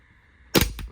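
A Walther P38 airsoft replica pistol made by WE fires two sharp snapping shots in quick succession, close by, over a faint background hum.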